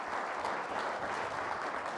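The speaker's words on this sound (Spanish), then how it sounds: "Un aplauso para nuestra primera panelista." Audience clapping for a panelist at a workplace accident forum, a steady dense burst of applause filling the short moment without speech.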